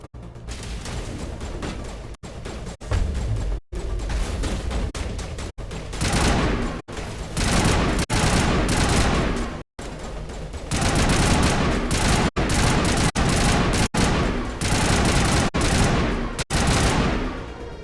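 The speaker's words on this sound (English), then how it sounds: "I thought they were shooting at me" Sustained, loud gunfire from the video game Mass Effect 1: dense volleys of rapid shots broken by brief sharp gaps and continuing without letup.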